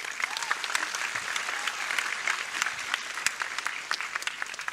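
Audience applause at an award ceremony for a student quiz competition, a steady dense clatter of many hands clapping close by, filling the whole stretch with no talk over it.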